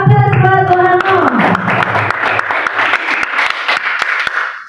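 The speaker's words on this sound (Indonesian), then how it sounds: "Semangat, aplaus buat Bu Anang." Applause from an audience at an Indonesian school planning workshop, a short burst of clapping that starts over sustained musical tones and carries on as dense, steady hand claps before fading near the end.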